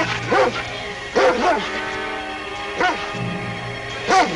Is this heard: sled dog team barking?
yes